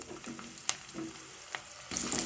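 Garlic and Byadgi chilies with cinnamon, clove and cardamom roast in a pan, giving a faint sizzle with a few quiet scrapes and taps, then a louder burst of frying near the end.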